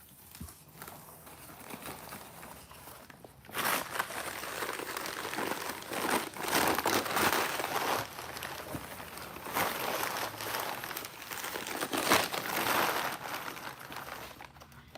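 Packing paper crumples and crinkles in bursts as it is pulled from a shipped box of toys and collectibles, with the rustling growing busier and louder after a quiet start.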